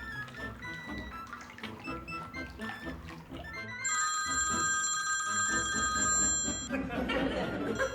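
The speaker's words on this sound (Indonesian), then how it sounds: "Le, ini ada telepon itu loh" A mobile phone rings with a steady electronic tone for about three seconds, rising over a busy indoor scene with voices talking before and after it.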